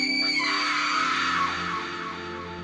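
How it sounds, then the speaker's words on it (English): A loud, sustained cry with piercing high harmonics that slowly trails off, heard on its own over a few seconds. "A single bone-chilling cry that tore through the stillness of a quiet Indiana town"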